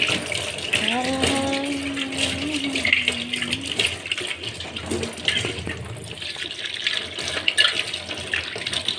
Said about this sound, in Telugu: ఇప్పుడైతే అన్నీ కడిగేసుకొని చూపిస్తాను ఒకసారి.